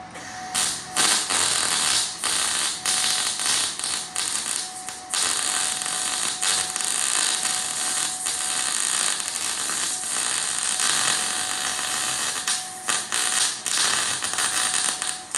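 MIG welding a fill weld on the body of a 1968 Baja Bug, a loud, steady crackling buzz broken into repeated short bursts with brief pauses between them, close up and with no talk over it.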